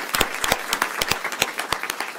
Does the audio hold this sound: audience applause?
yes